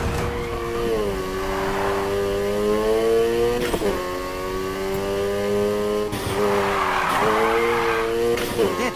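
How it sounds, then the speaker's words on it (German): A car drifting in Need for Speed Heat, with sustained tire squeal and skidding over a steady, loud engine whine that rises and shifts through several long slides. "Der Drift war echt gut."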